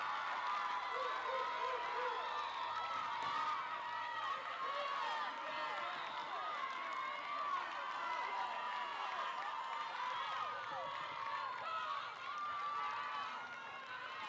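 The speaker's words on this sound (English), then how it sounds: "You can hear lots of "You've got this" in the crowd." Dense, continuous crowd noise from spectators at a cheerleading world championship, with overlapping shouts and cheers of encouragement held at a steady high level for the whole stretch.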